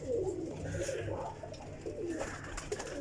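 Pigeons kept in a home loft coo softly several times, with low, throaty calls rising and falling over quiet background noise.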